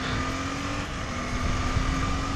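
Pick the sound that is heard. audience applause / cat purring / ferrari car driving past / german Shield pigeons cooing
ferrari car driving past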